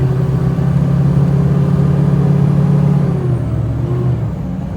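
A slow-moving truck with a power steering fault, running warm, gives a loud, steady engine drone with a constant whine riding on top of it. The tone eases slightly toward the end.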